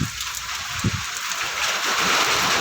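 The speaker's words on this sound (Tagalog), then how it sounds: "Ayan, umuulan na." Rain falls in a dense, steady hiss on surfaces outside a house among many trees, with a soft low rumble near the start and no voices.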